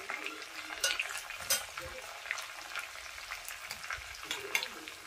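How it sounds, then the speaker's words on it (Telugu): Green chillies and curry leaves sizzle and crackle in hot oil in a pan for katte pongali. A spoon stirs them now and then, the sound is close, and there is no talking. "పచ్చిమిరపకాయలు కూడా వేగిన తర్వాత కరివేపాకు వేసుకోవాలి."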